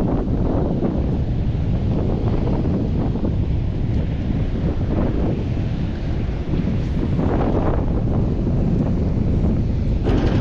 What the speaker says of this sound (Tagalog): malakas yung alon at saka malakas yung hangin